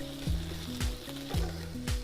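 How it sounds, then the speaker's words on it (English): Bacon frying in a pan in a college kitchen gives a steady close sizzle, with several repeated sharp scraping or clinking strokes over two seconds. "it sounds like the bacon's sizzling quite nicely"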